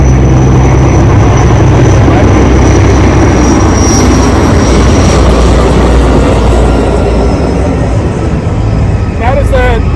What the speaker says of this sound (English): that's the Type 1, that's the heaviest lift helicopter that's in the county